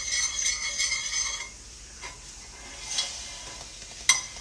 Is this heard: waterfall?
no